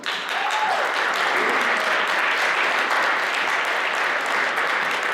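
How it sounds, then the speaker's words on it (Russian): Loud, sustained applause from an audience at a youth volunteer forum award ceremony at a university, a steady dense wash of clapping lasting several seconds with no talk over it. "Давайте ей громко аплодировать."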